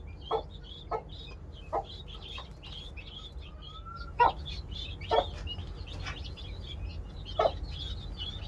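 Scattered chirps and short peeping calls from young guinea fowl chicks come in irregular bursts over a low background hum, some louder and closer than others.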